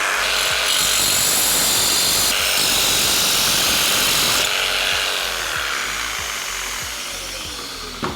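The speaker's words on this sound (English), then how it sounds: "Put a metal blade on the jigsaw and see what it does." Jigsaw fitted with a metal blade cutting through metal in a garage, a steady loud buzzing rasp with rapid reciprocating strokes that runs continuously and tapers slightly toward the end.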